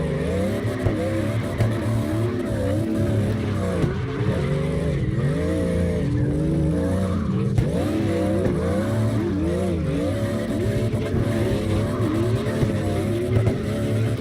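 A twin-turbo Lamborghini Huracan drifts in the CarX Drift Racing Online game, its engine revving with repeated rising and falling pitch swings over continuous tire squeal.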